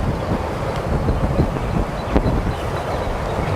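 Wind blowing steadily across an outdoor disc golf course in Bowling Green, Kentucky, a continuous broadband rush with small gusts and a faint thump near the middle, no talking.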